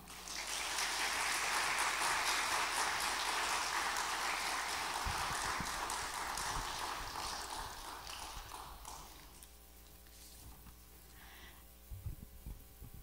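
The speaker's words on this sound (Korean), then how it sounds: "큰 박수로 환영해 주시면 감사하겠습니다" Congregation at an early-morning church prayer meeting applauds to welcome a school principal to the pulpit, dense sustained clapping that fades after about nine seconds into room hum with a few scattered claps.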